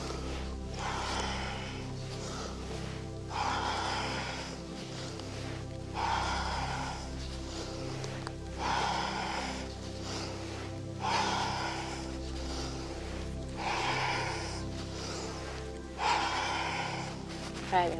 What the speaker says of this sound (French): avec une respiration donc, profonde, mais rythmée